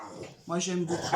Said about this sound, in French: c'est mon chien qui jappe